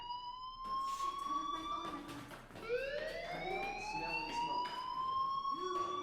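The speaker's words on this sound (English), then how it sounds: "Hey, do you hear that fire alarm?" A school fire alarm in the video game Life Is Strange sounds as a rising, sustained electronic wail that repeats, moderately loud, with background music and brief game sounds; no talk.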